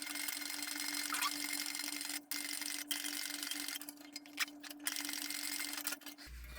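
A sewing machine restitches a fabric satchel with the piece face up, giving a faint, steady mechanical hum that runs throughout with a few brief clicks and pauses.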